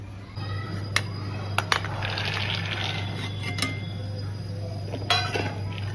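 Green pigeon peas washed in water in a home kitchen, giving soft sloshing and scattered light clinks against the vessel over a steady low hum.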